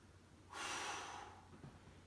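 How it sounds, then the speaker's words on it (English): One forceful breath pushed out during a dumbbell press, a close, breathy rush of air lasting about a second before trailing off into quiet. "I was able to exhale on the way down"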